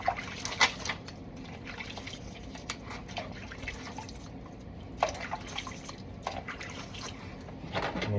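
Brushes scrubbing a suction tube piece clean under water, giving soft wet scrapes and drips with a few sharper knocks, steady and close throughout.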